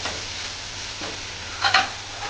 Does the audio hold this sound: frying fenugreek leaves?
yes